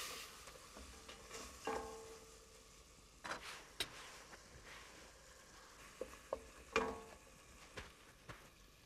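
Spices and freshly cut tomatoes stirred in a pan, soft sizzling beneath intermittent scraping strokes and clinks of a utensil, fairly quiet and close, no speech.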